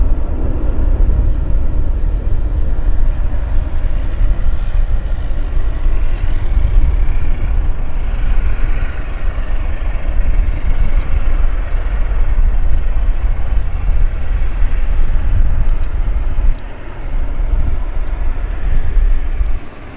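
A British Airways airliner at Vancouver Airport, its engines a loud, steady roar that holds throughout the stretch and dips slightly near the end, with no talking over it.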